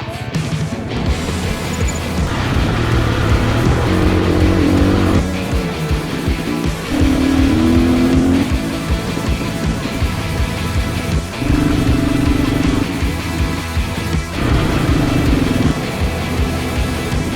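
An off-road motorcycle on a trail in Spain rides over a brow, its engine loud and close with repeated revving surges and dips and no talk.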